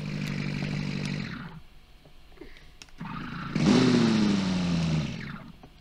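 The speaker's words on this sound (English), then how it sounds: "I changed the engine noise on this and it sounds way better than it used to" A V8 race car engine in the racing game Automation revs hard, drops away, then surges again with a loud rising then falling whine, close up and alone.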